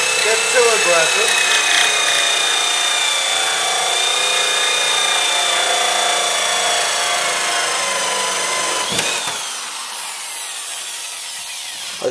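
Continuous loud grinding whine of a drill-driven hole saw chewing through wood, steady for most of the stretch, then a sharp break as the cut stops and the motor spins down to quieter running.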